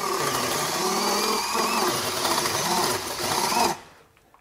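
A FLEX 24V hammer drill driver runs in turbo mode at speed two, a loud steady motor whine with slight wavering that holds for several seconds before cutting off into quiet.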